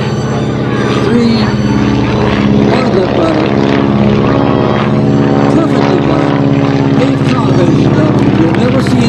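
Stearman biplane, a primary trainer, flying a low solo aerobatic display, its radial engine droning loud and steady throughout with a propeller buzz, while a voice talks over it.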